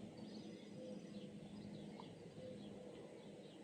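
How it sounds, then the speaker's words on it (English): Faint birdsong drifts through a steady outdoor hum, with scattered chirps and calls at a distance and no talking. "And the birds are singing."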